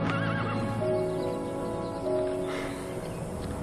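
A horse whinnies loudly and close in a quiet rural setting, its rising and falling neigh sounding alone with faint hoof clip-clop underneath and no talk.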